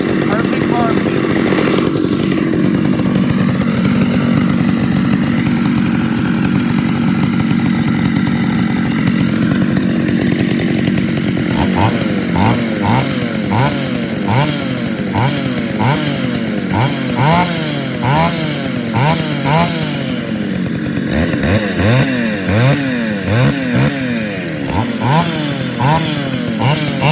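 Poulan Pro 455 chainsaw running close by, idling with a rough steady burble before being revved repeatedly in rhythmic bursts of high-pitched screaming acceleration and dropping back between each.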